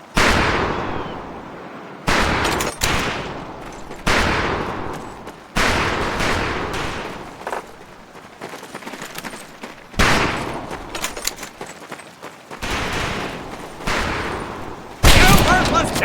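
Bursts of rifle fire from a squad on a firing range in Medal of Honor: Pacific Assault, a World War II video game, cracking loudly in repeated volleys and clusters of shots with short pauses between them.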